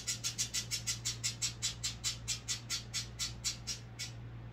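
A pet bird gives a rapid series of about twenty sharp, evenly spaced squawks or chirps lasting about four seconds, close and fairly loud over a steady low hum.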